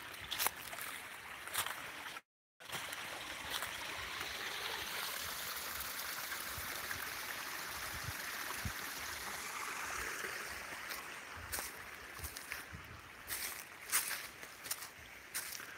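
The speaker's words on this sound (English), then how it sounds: "Here's the waterfall." An outdoor waterfall rushes in a steady, fairly faint wash of white noise that fills the whole stretch, with scattered bumps and handling knocks, a short dropout near the start and no talk.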